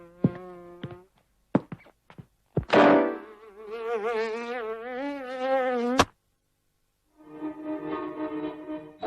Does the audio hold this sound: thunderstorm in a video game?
no